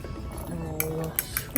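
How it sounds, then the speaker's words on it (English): Eggs whisked in a bowl, with a few quick metallic clinks and taps of the utensil against the dish, fairly close and quiet against a soft background hum. "We're gonna whisk the egg to incorporate everybody together."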